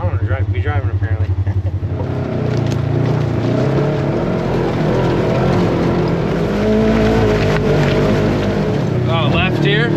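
Polaris RZR 1000 side-by-side engine droning loud and close while driving off-road, with steady mechanical roar and rattles, people talking over it.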